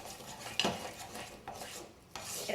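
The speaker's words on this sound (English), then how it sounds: "let me just give this a really good all the way around the bottom kind of stir" A spoon scrapes and stirs a thick, lump-free sugar mixture around the bottom of a pot, three distinct scraping strokes with metallic clinks between softer rubbing, close and clear with no talking.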